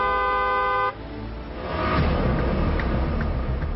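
A car horn honks in one steady sustained blast that cuts off, followed by a rising wash of road traffic noise.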